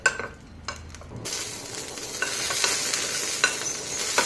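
Green chillies fry in a spoonful of oil in a small pan, a soft sizzle with a spoon stirring and scraping, after a brief quiet start with a few light clinks.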